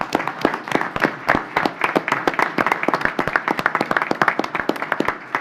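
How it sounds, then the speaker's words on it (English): A small audience at a county commission meeting gives a round of applause for college champions, sharp distinct claps from relatively few people, close and steady in a quick irregular rhythm throughout. "Let's give them a round of applause"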